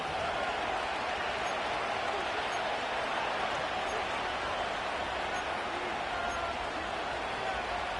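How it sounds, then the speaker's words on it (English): Football stadium crowd roaring steadily during a professional game, a dense, loud wall of cheering and noise that holds constant throughout with no break. "This crowd turning up the decibel level."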